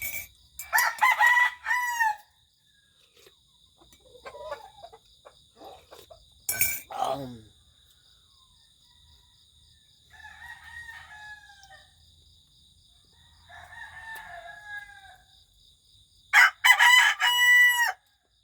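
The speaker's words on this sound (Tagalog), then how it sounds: "Dinig ninyo ang tulaok ng manok." A fighting rooster crows several times, loud and close, with quieter clucks and other crows from nearby gamecocks in between.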